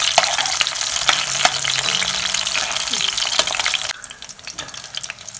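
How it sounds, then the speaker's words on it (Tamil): Spiced fish pieces fry in hot oil in a pan, a dense, bubbling sizzle with sharp crackles and pops, loud and close, easing down noticeably about two-thirds of the way through. "எண்ணெயில் நல்லா பொரிஞ்சிருச்சு"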